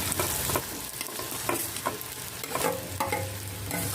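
Crushed boiled potatoes get stirred into onions and turmeric frying on the stove, a busy sizzle broken by repeated scraping and clattering spoon strokes, close and fairly loud.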